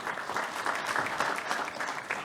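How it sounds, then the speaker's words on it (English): A crowd at the India SME Excellence Awards claps steadily, a dense, sustained round of applause filling the room without any voices standing out. "Let's give him a mighty round of applause."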